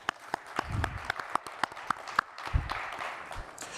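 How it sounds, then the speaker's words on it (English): An audience applauds a presenter named Evan at a corporate data governance case study talk, with a run of sharp, evenly spaced claps over a steady bed of clapping that lasts just under four seconds. "Let's give a round of applause for Evan."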